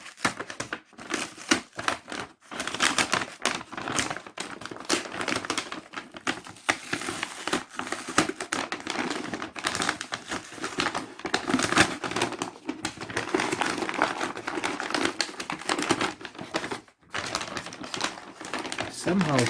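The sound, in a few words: pulling paper packaging from Samsung Galaxy Note 20 Ultra box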